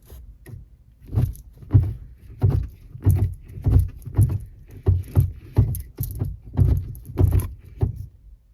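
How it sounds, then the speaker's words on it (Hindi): Repeated mechanical clunks and thuds in a steady irregular rhythm, mid-loud, with faint rattling, as a Mahindra Scorpio N Z2's gearbox knocks while shifting gears. "लेकिन भाई साहब आवाज़ ज़रूर करता है ये शिफ्टिंग के टाइम"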